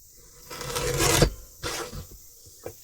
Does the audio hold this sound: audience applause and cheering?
no